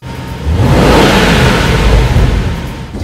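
A 2006 Jaguar XK8 Victory Edition with a 294 hp 4.2-litre engine roars under hard acceleration, a loud broadband surge that builds quickly, holds for a couple of seconds, then eases off, with no speech.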